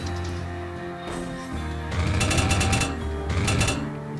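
A jump drill in the video game SteamWorld Dig grinds and hammers steadily, a loud rattling drone that grows harsher and more intense midway through and continues without pause.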